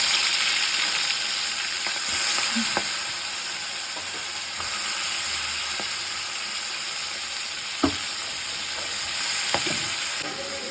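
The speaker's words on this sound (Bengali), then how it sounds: "সর্ষার তেলটা লাল যখন হয়ে উঠবে তখন আমি একে একে করে চিংড়ি মাছগুলো ছেড়ে দেবো" Prawns fry in hot mustard oil with a steady, dense sizzle throughout, broken by a few faint clicks and light knocks of a utensil against the pan.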